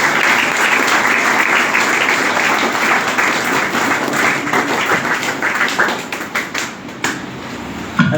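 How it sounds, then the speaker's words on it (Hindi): An audience at a business event breaks into loud, sustained applause, dense clapping from many hands that fades slightly toward the end. "तालियों के साथ में"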